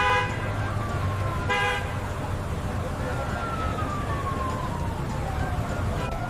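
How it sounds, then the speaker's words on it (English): A police car siren wails and sweeps in pitch over steady traffic-like rumble, with short horn toots early on, moderately loud and continuous. "This is a police car."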